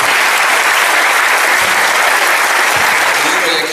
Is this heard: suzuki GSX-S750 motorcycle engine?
no